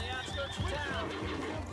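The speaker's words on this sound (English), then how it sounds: "Now that's my horse there." A horse whinnies in the video game Red Dead Redemption 2, one close, loud neigh with a wavering pitch, under someone talking.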